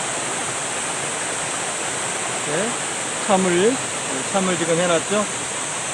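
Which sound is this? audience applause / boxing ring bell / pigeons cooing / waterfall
waterfall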